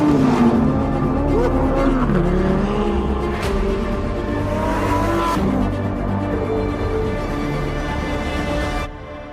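A 2023 Lamborghini Huracán Sterrato engine revs and roars continuously with shifting pitch, tires scrabbling as it drifts through turns, loud and close throughout before cutting off abruptly.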